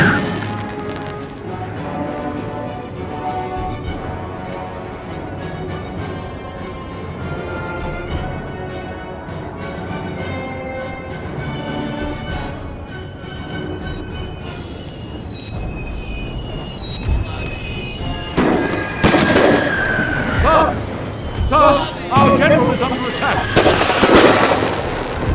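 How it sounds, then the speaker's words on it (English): Gunfire and artillery in a war video game, with layered crashing blasts and sharp cracks that thicken into a dense, loud barrage toward the end, mixed with game music and voices. "The firing in this is so crazy."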